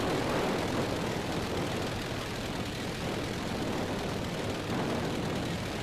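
A plane engine drones steadily through a landing approach in the driving and flying game HB Vehicle Sandbox, a continuous broadband roar at moderate volume with no voices.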